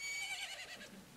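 A single horse whinny in the video game Zelda: Majora's Mask, quavering and high, fading out over a second against quiet background.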